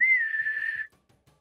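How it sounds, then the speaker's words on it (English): A single sustained bosun's whistle sounds from above during a tabletop role-play session, holding one steady tone for under a second before cutting off into near silence. "You guys hear the bosun's whistle from up above."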